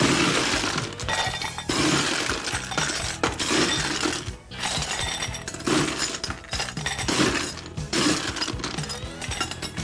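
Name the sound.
ice cubes added to a cocktail glass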